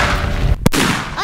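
A P1 Dum Bum firecracker made by Klasek in 2017 explodes outdoors with a single sharp, loud bang cutting through steady background noise.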